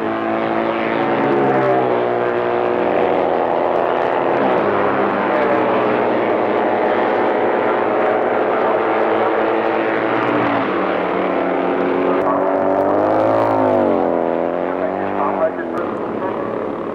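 Vintage racing motorcycle sidecar outfits built between 1918 and 1940 roar off together at the start of a race, a loud, sustained, rising engine drone with a commentator talking over it.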